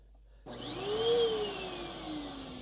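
A vacuum cleaner switches on abruptly and runs with a loud, steady whine, its pitch rising and then sagging slightly, before a sharp click at the end.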